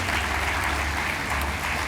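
A mayor's New Year wishes ceremony fills with dense, steady applause from the gathered audience, loud and continuous throughout.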